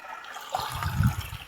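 River water flows at a bathing spot in a swollen stream, heard as a steady, moderately loud rushing wash with a fuller surge midway and no voices.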